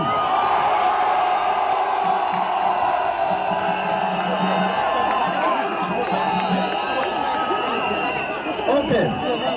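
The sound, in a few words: crowd applauding and cheering at stadium rally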